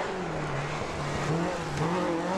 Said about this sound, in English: Quick through there, very oversteery round there, very good rally car